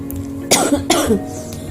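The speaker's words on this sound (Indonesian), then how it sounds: "Batuk dah tuh." Two quick coughs, close and fairly loud, with a short pause between them over a faint steady background hum.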